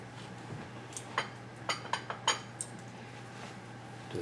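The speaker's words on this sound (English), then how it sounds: "Give that a quick stir." Spoon scraping and clinking against a pot of coconut chicken soup, a handful of soft, scattered metallic taps close by over a quiet background hum.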